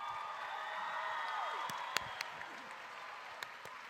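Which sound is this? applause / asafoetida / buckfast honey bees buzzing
applause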